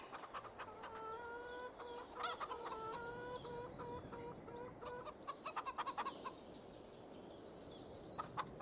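In Farming Simulator 22, chickens cluck and squawk in a steady overlapping chorus, with occasional sharper calls, fairly close and moderately loud against a low background hum.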